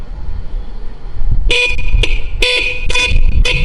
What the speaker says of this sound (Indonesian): Lalu kita coba